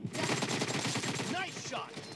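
Rapid gunfire from a mobile team-deathmatch shooter game, a dense stream of shots running continuously at close range with a few brief game voice sounds near the end.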